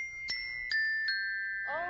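Glockenspiel orchestral bells struck with hard mallets: three bright, ringing metallic strikes with long sustained tones, close and clear, followed by a quick rising run of tinkling notes at the end.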